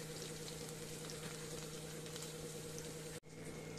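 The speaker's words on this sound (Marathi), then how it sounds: "हा मसाला चांगला फ्राय झालाय." Masala made of garam masala, kitchen king masala, turmeric and a homemade spice blend fries in oil with ginger-garlic paste in a pan for shahi matar paneer. A steady close sizzle runs throughout and is briefly cut off near the end.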